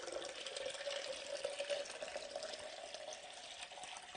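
Water poured in one long, steady stream into a glass during a magic trick, a soft continuous splashing trickle heard alone at fairly low level.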